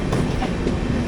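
Porbandar Express (20909) heard from inside an AC 3-tier coach while running on the Kerala line, giving a steady loud rumble of wheels and carriage with soft rhythmic clatter throughout, no voices.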